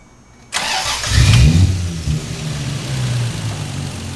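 A Toyota Supra fitted with a swapped 1JZ engine cranks briefly and fires, then rises into a loud rev close by before settling into a steady, smooth idle.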